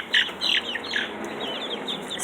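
Chickens on a small zone 5 farm clucking and squawking close by, several short bursts in quick succession with a brief flutter of wings, no talking over them.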